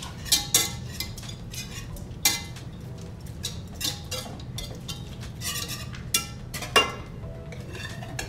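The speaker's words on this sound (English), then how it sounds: "Before we add the spaghetti, I'm just going to mix it up." A utensil mixes cheese, garlic and Italian seasoning in a bowl for spaghetti pizza, making repeated close clinks and scrapes against the bowl in an uneven rhythm, with no talking.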